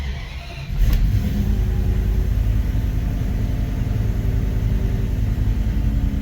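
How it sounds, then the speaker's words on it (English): A Dodge Charger engine fitted with a Holley Sniper fuel injection system fires up after the fuel pump primes. The pump's faint hum gives way to a quick catch, and the engine then settles into a loud, steady, rumbling high idle close by. "Here the fuel pump is priming. Just watch how quickly it catches."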